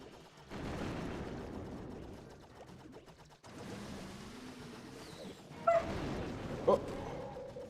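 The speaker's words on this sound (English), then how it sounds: "my dog barked and scared the hell out of me" A dog barks a few times, short and sharp at close range, with soft whimpering and someone talking in the same scene.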